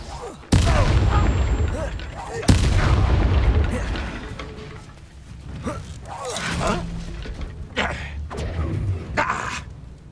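Confringo fire-blast spells in the video game Hogwarts Legacy: two loud booming blasts hit at the start, followed by crackling bursts and further impacts of combat, with a voice shouting over them.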